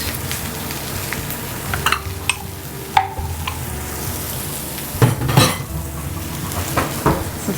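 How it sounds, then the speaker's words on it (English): Brussels sprouts sautéing in a pan, with soft sizzling under scattered clinks and scrapes of a utensil stirring against the pan, moderately close. "So I like when I'm sauteing the Brussels sprouts to kind of leave them still"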